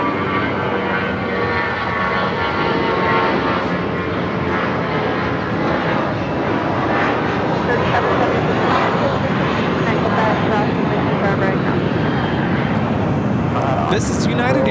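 United Airlines Airbus A320 taking off from LAX bound for Seattle, a loud, sustained engine roar and rumble throughout, with voices talking over the noise.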